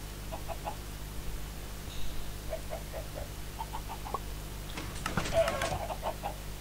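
Minecraft chickens give soft, short clucks in scattered bursts over a low steady background hum, joined by a busier clatter of game noise near the end.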